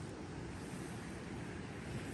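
South Fork of the Sun River in the Bob Marshall Wilderness, a steady, close rush of flowing water with a continuous broadband roar and no breaks.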